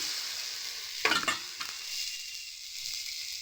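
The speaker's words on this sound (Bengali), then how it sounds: "দিয়ে ভালো করে এবারে নেড়ে নেবো। একটু ভাজা ভাজা মতো হয়ে গেলে এরপর আমরা আদাটা দিয়ে দেবো।" Ginger and spices sizzle in hot oil as a spoon stirs the pan for a vegetarian papaya dish, with a sharp scraping burst of stirring over a steady, close frying hiss.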